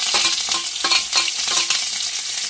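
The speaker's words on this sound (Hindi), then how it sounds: "ये हमने प्याज डाला" Onions frying in hot oil in a village kitchen pan, a steady loud sizzle with rhythmic stirring scrapes recurring every half second or so, no voices.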